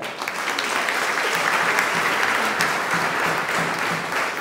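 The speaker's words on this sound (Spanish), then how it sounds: "Fuerte aplauso" A congregation at a Sunday church mass applauds together, a dense, loud and sustained roar of many hands clapping that fills the space for several seconds with no talk over it.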